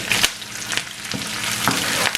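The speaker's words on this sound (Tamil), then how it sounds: "இப்போ கருவேப்பிலை போட்ட அப்புறம் ஒரு 1/2 நிமிஷம் வதக்கி எடுத்தீங்கன்னா காணும்." Curry leaves and onion sauté in a hot pan of oil, a steady bright sizzle with a few sharper crackles and stirring scrapes, close and fairly loud, no voices.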